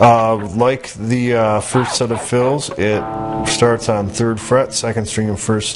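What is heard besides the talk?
None of the usual background noises is heard.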